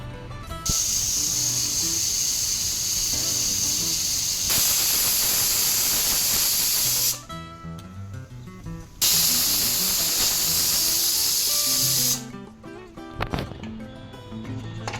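A pressure cooker cooking moringa pod soup releases steam in long, loud hissing bursts, two extended whistles separated by quieter pauses with faint clatter.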